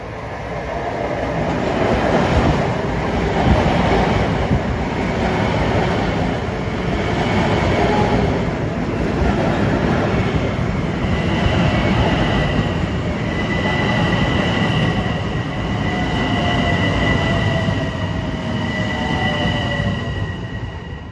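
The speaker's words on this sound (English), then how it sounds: "Approaching at 5:14 is train 1661, Huntington to Grand Central Terminal." A Long Island Rail Road commuter train approaches and rolls through Westbury station during the evening rush, a loud steady rumble of wheels on rail with rising wheel squeal and clatter that runs unbroken through the whole pass.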